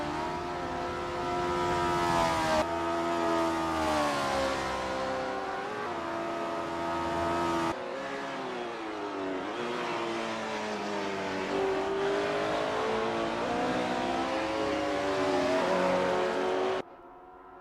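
A Honda S800 RSC race car in Assetto Corsa at Lake Garnet 1963 drones loudly at high revs throughout, pitch rising and falling through gear changes, with a sudden cut near the end.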